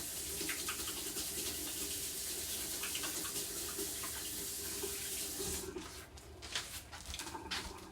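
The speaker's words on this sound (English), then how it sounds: "let me wash my hands real fast" A kitchen faucet runs steadily as hands are washed under it, a continuous close splashing stream that breaks into irregular splatters near the end, with no talking.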